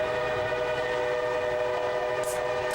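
A train horn sounds a steady warning before the Frankenstein trestle on a scenic railway, heard from inside the train as a sustained, fairly faint tone over the continuous rumble of the cars.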